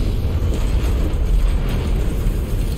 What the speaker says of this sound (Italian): C'è un impatto talmente forte che l'ho sentito pure io.